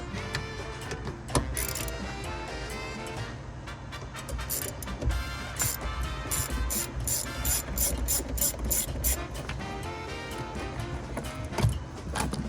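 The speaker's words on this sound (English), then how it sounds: "I'm gonna go ahead and get that battery unplugged. It's just a 10 mil." A ratchet wrench clicks in rapid bursts, loosening the 10 mm battery terminal on a 2017 Camaro SS, close and fairly loud. Steady mechanical clatter runs underneath.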